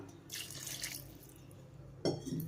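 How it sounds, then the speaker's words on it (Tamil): A steady light trickle of water poured into a pan of chicken gravy, ending in a brief louder splash as it lands. "இது கூடவே கொஞ்சமாக தண்ணி ஆட் பண்ணிக்கலாம்."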